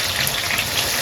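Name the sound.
onion frying in oil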